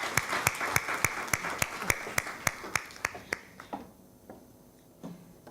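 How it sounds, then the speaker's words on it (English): Clapping at a plenary session of a science advisory conference: sharp, evenly spaced claps in a quick rhythm, close and distinct, thinning out and stopping near the end. "Let's give her a clap."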